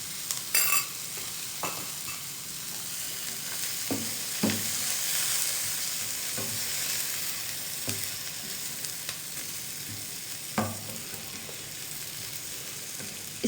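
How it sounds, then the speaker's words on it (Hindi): About a tablespoon of butter sizzles in a pan for butter chicken, a steady soft frying hiss broken by repeated light scrapes and taps of a spoon stirring. "अब हम इसमें 1 टेबलस्पून जितना मक्खन शामिल कर देंगे,"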